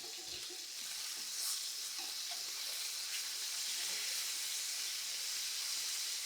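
A steak sears in a hot pan with fresh thyme nearby, giving a steady, even sizzle and hiss close up that carries on without a break.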